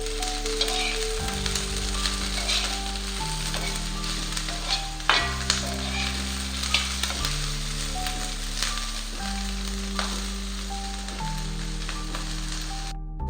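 Onion frying and sizzling in a pan for chhole, a steady loud sizzle running throughout with music playing underneath.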